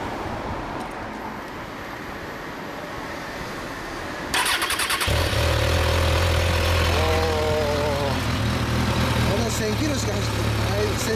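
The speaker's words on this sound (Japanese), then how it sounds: "エンジン音聞かせていただけますか？" A 2016 Kawasaki Ninja 1000 motorcycle (1000cc) is started after several seconds of quiet outdoor ambience, then settles into a steady, loud, close idle with a low rumble that runs to the end.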